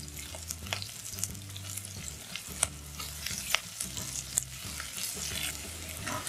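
Half a chopped onion and two minced garlic cloves frying in butter with a drizzle of olive oil, a soft sizzle punctuated by light, irregular scrapes and taps of a stirring spoon.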